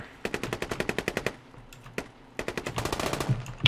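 Automatic gunfire in a Squad multiplayer shooter match: two rapid bursts of loud, evenly spaced shots, the first a steady string of about a dozen rounds, then a brief pause and a longer, denser burst.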